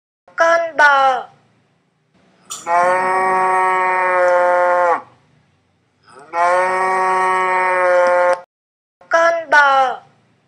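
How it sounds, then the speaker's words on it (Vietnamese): A cow moos twice in long, loud, sustained calls, close and clear, with a short spoken word before and after each. "Con bò."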